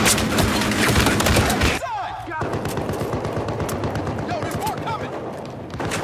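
Dense, rapid gunfire rattles nearly nonstop in the video game Battlefield: Hardline, loud and close with overlapping bursts and a brief lull, amid in-game voices.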